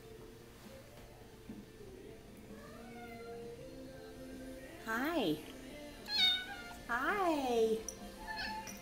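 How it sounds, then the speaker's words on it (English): Several cats meow in loud, rising and falling calls clustered near the end, with a person speaking softly to them throughout. "kitty cats. Tired kitty cats."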